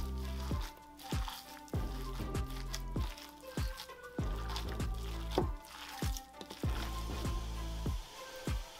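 Hands mix a turkey and pork meatball mixture in a bowl, giving close, wet squishing and slapping pulses in an uneven, repeated rhythm with no talk.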